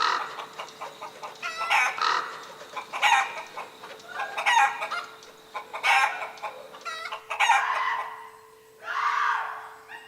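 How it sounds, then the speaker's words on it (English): Startled chickens squawk and cluck in loud, repeated bursts, with a rooster-like crowing cry among them and short pauses between outbursts, close and clear, with no talk. "All of the chickens squawked in horror."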